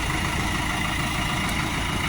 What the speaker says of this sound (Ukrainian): Трактор не шумний, не гучний, всередині тихенько, знаружі теж він не сильно шумний